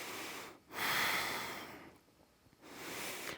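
Slow, steady breaths during a yoga flow, two long airy exhales or inhales separated by brief pauses, close and clear with no talking.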